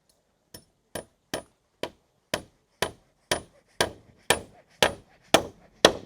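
Hammer blows on a roof being installed, eleven sharp strikes at a steady pace of roughly two per second, growing gradually louder and ringing slightly, with no talk over them.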